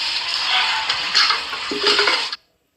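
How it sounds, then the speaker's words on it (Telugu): Cow dung water splashed across the ground in a village in the early morning; a close, steady swishing spray for about two seconds with a couple of louder surges, then a sudden stop into silence. "పేడ నీళ్లు మాత్రమే చల్లుతారు చూసారా"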